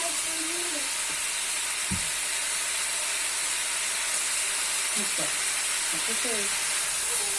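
Seasoned beef with onions and peppers sizzles and hisses loudly in a hot pan, with a few scraping stirs and short knocks of a utensil breaking through the constant frying noise.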